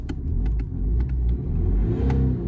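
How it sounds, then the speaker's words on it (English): A sluggish car with a lumpy engine and suspected blocked DPF cranks over and runs, giving a rough, uneven rumble with irregular revving pulses, close and loud with no talk. "Listen to the engine turning over"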